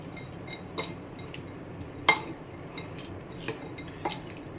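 A spoon mixing soaked sago pearls with peanuts for sabudana khichdi, giving a few soft scrapes and clinks against a dish and one sharper clink near the middle, close and fairly quiet with no talking.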